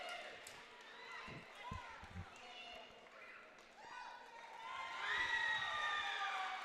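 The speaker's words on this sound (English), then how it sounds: "So he gets the celebratory roar from the crowd." Spectators at a high school dual wrestling meet between Mead and Frederick roar in celebration after a pin, a broad crowd cheer that swells louder toward the end while a commentator talks over it.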